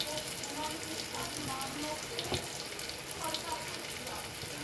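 Tomato and spices frying in a pan, a steady close sizzle and crackle running throughout with occasional stirring scrapes.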